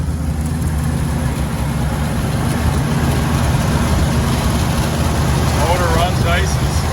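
A 1971 Ford F250 truck engine idles nearby with a steady low rumble that stays even throughout, while someone talks over it.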